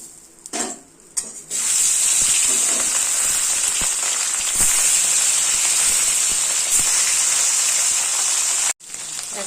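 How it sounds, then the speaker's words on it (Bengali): Khoyra fish frying in hot oil in a home kitchen, a loud steady sizzle that starts after a few stirring clatters and continues without a break, with a brief cut near the end. "আগে খয়রা মাছটা ভেজে নিচ্ছে"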